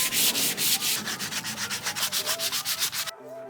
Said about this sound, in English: And then I go over everything with a sheet of sandpaper.